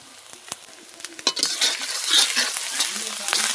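Ginger and garlic frying in oil in a pan with turmeric and red chili powder added, a close sizzle that swells into a dense crackle, punctuated by stirring scrapes and taps of a spoon.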